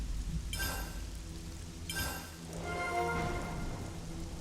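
Steady rainfall in the Xenoblade Chronicles 3 game world, a continuous dense wash of drops with brief brighter surges, near and fairly loud, with no one speaking.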